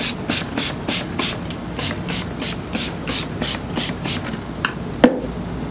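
A dry rag rubbed briskly over a bowling ball after washing, giving a steady series of about a dozen rhythmic swishing strokes, close and fairly loud, with a sharper knock near the end.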